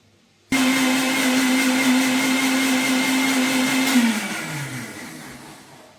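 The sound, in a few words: mixer grinder grinding coconut finely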